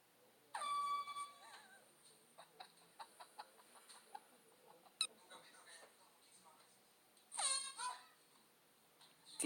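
Truck air horn blasting in a prank, two sharp loud honks separated by a stretch of scattered clicks and knocks, heard fairly close amid quiet background.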